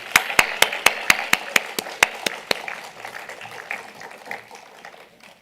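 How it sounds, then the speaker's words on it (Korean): A church congregation at a Sunday service starts with a run of about a dozen loud, evenly spaced unison claps, then breaks into softer scattered applause that trails off. "박수하겠습니다"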